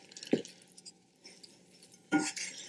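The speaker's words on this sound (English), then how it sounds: "We're not really kneading this, just mixing everything, just stirring it all together." Ciabatta dough with yeast being stirred in a bowl, heard as two short, soft, wet scraping bursts separated by a quieter stretch of faint mixing, close and without voices.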